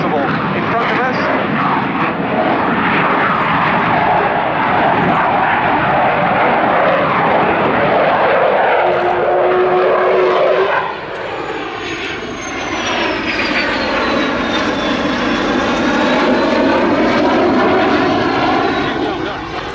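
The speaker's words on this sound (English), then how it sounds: "Afterburner being engaged, the aircraft goes into a minimum radius, turn as tight as possible in front of us." A military jet roaring at the Yeovilton Air Day 2017 airshow, engaging afterburner for a minimum-radius tight turn in front of the crowd, a loud sustained rumble with a rising whine as it banks, under a commentator's voice.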